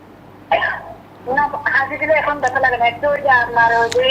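One sharp, close cough bursts out, then a person starts speaking right after it.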